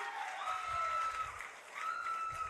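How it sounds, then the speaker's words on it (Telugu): Audience clapping to congratulate a student at a public event in Pamarru, in a steady burst of applause with a brief dip midway, a sustained high tone ringing over the crowd. "గట్టిగా చప్పట్లు కొట్టి అభినందించండి."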